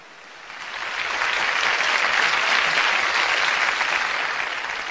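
Audience applause at a live Telugu mimicry show, a dense steady clapping from a sizeable crowd that swells over the first second and holds loud throughout with no voices on top.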